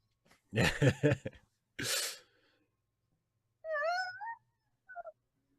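A domestic cat gives two clear, close meows, one drawn out and one short, after a pair of breathy sneeze-like bursts, with quiet room background between.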